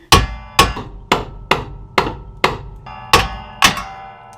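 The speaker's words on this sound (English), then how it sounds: "Get the hammer." Hammer blows strike car front suspension parts while the lower control arm and tie rod ends are being replaced, eight sharp, evenly spaced metallic whacks about half a second apart, loud and close, with a short gap before the last two.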